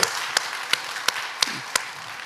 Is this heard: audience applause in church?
yes